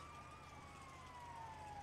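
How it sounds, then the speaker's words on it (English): Police sirens in Grand Theft Auto V, a steady wailing tone sweeping slowly downward over a low engine rumble, faint and continuous with no talk. "I'm gonna turn off those obnoxious sirens."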